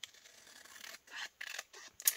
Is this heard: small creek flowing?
no